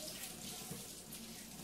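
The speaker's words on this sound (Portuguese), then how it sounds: "Eu tenho o costume de descascar a cebola na torneira" Tap water runs steadily at a kitchen faucet while an onion is peeled under the stream, a soft continuous hiss heard close by with no talk over it.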